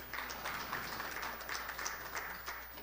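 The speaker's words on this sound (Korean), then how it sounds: "큰 박수로 환영해 주시기 바랍니다" A hall audience at a construction-industry policy forum applauds to welcome a speaker, a soft, even patter of many hands clapping that sounds distant and fairly faint, with no talk over it.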